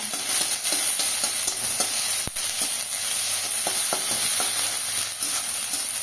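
Grated ginger is stirred in a frying pan with a mustard tempering, a constant, close hiss of sizzling oil broken by occasional sharp spatula taps and scrapes, with no voices.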